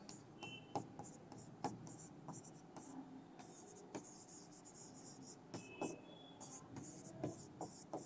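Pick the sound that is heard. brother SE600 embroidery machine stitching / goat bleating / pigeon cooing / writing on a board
writing on a board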